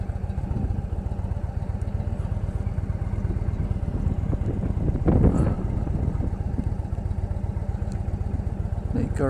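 A 2016 Indian Chief Vintage motorcycle engine rumbles steadily during a ride, with a deep, even low drone and wind noise throughout and no pauses.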